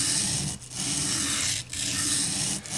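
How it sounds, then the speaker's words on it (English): A knife's narrow blade bevel is rubbed flat against a sharpening stone in long, steady rasping strokes, three of them with brief pauses between, loud and close with no voices. "all I'm going to do is try to keep that blade bevel flat against the stone"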